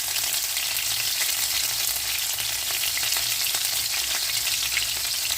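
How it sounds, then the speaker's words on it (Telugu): A bay leaf and cloves fry in hot oil, giving a steady, bright, hissing sizzle that stays even and close for the whole stretch with no voices. "ఆయిల్ కొంచెం వేడెక్కిన తర్వాత ఒక బిర్యానీ ఆకు, ఒక 4 లవంగ మొగ్గలు వేసుకోండి."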